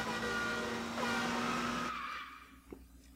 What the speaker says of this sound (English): And it's Bowser driving a car.